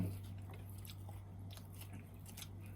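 Someone chews bony fried white fish from the Nam Un reservoir with spicy som tam, giving soft, close, wet chewing and squishy bites over a low steady hum.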